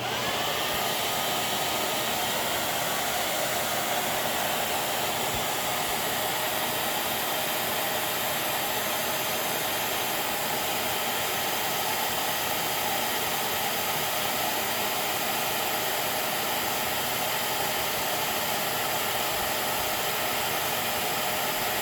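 An Electrolux 1505 Silverado vacuum cleaner runs steadily at the end of its hose during an airflow test, giving a loud, constant broadband whoosh of rushing air with no pauses or talk.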